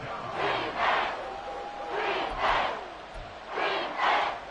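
A stadium crowd in the Madden NFL 24 video game, Texans vs Bucs, roars in rhythmic swelling waves that rise and fall in paired surges, loud and continuous.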